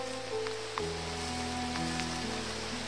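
Steady rain patters on a surface, a continuous wash of noise with low droning hum underneath and a few soft taps.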